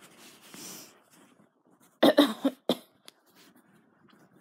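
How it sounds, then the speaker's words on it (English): A person coughs in a quick cluster of three or four harsh, close bursts, with softer breathing and faint noise before and after. "He's coughing."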